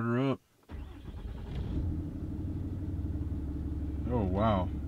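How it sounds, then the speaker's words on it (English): A 24-valve Cummins diesel truck engine with a five-inch straight-pipe exhaust cranks and fires, then settles into a deep, loud, rattly idle, with brief voices at the very start and again near the end. "Start her up."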